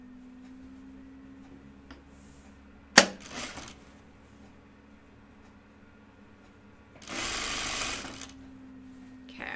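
A domestic sewing machine stitches a bodice placket in two short bursts, a brief whirring run after a sharp click and a longer steady buzzing run later, with quiet pauses and a faint hum between.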